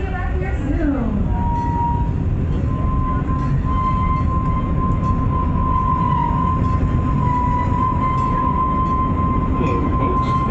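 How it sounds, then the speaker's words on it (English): Zooliner miniature passenger train, a scale replica of the GM Aerotrain, on the Washington Park and Zoo Railway at the Oregon Zoo, giving a steady loud rolling rumble with a sustained tonal whine and occasional clinks, heard from on board. "This is one of 3 passenger trains here on the Washington Park and Zoo Railway."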